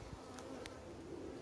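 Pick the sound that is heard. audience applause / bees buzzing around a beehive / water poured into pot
bees buzzing around a beehive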